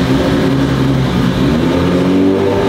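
A 3.2-litre VR6 engine with forged internals in a drift car runs loud and close, a sustained deep rumble with a steady, throaty drone and slight swells in revs.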